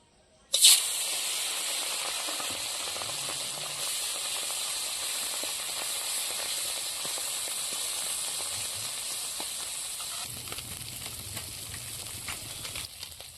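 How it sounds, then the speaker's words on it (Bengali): Small puti fish, roe-filled, frying in hot oil in a home kitchen: a sudden loud hiss as they hit the pan, settling into a steady, dense sizzle that continues throughout. "তেল গরম হয়ে গেছে, মাছগুলো ভেজে নেব।"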